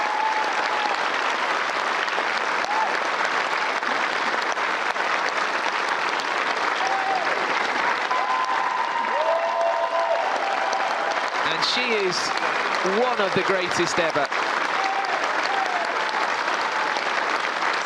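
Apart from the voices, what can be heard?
Wimbledon crowd standing ovation applause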